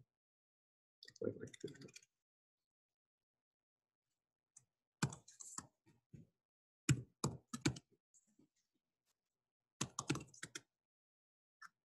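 A computer keyboard tapped in short bursts of rapid keystrokes separated by silent pauses, close and crisp.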